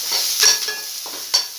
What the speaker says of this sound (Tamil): கருவேப்பிலை போட்டு அதுக்கப்புறம் லைட்டாக வதக்கிட்டு பச்சை மிளகாய் ஆட் பண்ணணும்.